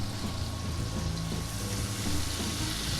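Norway lobster fries in a hot pan with lime added, a dense, steady sizzle and crackle that fills the whole span at close range with no voices.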